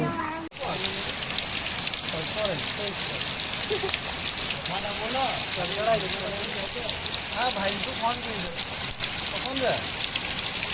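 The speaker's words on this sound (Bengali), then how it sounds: "প্রচুর বৃষ্টি হচ্ছে প্রচুর বৃষ্টি হচ্ছে" Heavy evening rain pouring down outdoors, a dense continuous hiss and patter on surfaces, with a voice talking over it throughout and a brief knock near the start.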